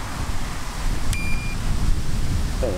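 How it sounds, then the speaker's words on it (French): Gusty wind buffets the microphone at a lakeside carp-fishing spot, a steady low rumble with one brief, high electronic beep near the middle. "il y a des bourrasques de vent qui s'est levé là"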